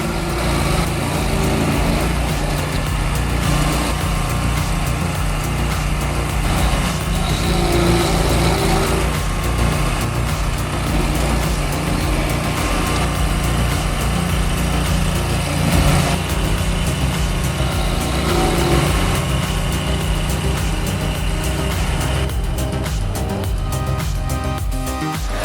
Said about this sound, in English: the small 825 HP grinder turns a 24-inch stump into dust